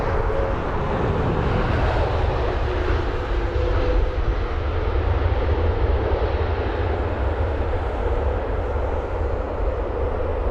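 An Airbus A330neo, newly built, passes at London Heathrow with a loud, steady jet roar that holds broadband and constant throughout, dominated by low rumble with no voices.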